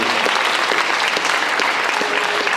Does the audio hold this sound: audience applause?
yes